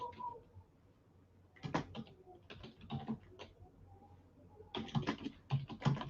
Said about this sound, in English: I'm typing this in right now.